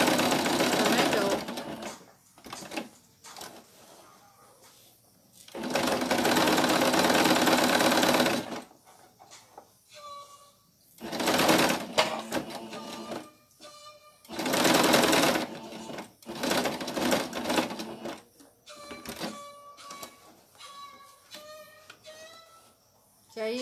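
A sewing machine stitches in several long loud bursts of whirring, broken by pauses and someone speaking between runs, close by.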